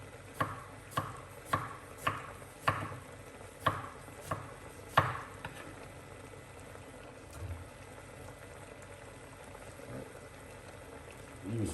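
Knife chopping medium-sized tomatoes on a cutting board, about nine sharp, evenly spaced strokes that fade out, followed by quiet kitchen background with faint simmering.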